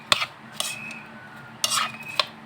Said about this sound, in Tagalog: So, halo-haluin ko lang muna.